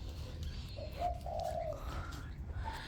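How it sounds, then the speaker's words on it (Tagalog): Birds calling near apple trees outdoors, a few soft cooing notes at moderate distance over steady low background rumble. "Maririnig nyo naman yung mga ibon."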